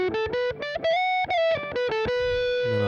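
Distorted electric guitar played with the tone knob fully closed, giving a dull, muffled tone; a quick run of picked notes and short sustained phrases, close and alone with no talking.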